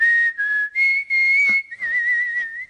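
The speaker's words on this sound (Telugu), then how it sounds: "ఏ విజిల్ అంత బాగుందా?" A person whistles a sustained, wavering tune in several phrases with short breaks between them, close and fairly loud, with no talking over it.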